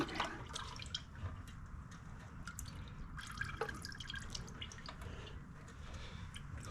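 Fluid drains from the engine of a Cub Cadet RT65 rear-tine tiller, a steady close trickle and patter of dripping liquid running continuously without talk.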